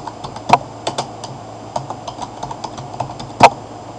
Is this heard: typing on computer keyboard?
yes